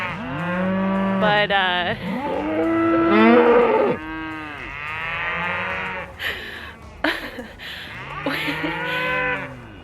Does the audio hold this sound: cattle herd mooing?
yes